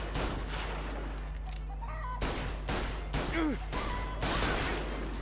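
Repeated bursts of loud gunfire ring out in Mafia: Definitive Edition, shot after shot in rapid volleys across several seconds, with brief voices and other game sounds mixed in.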